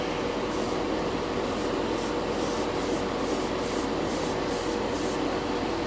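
Clear coat hisses steadily from a spray can or airbrush over Alclad chrome paint on a model, in a continuous close spray with short regular pulses, and no talk.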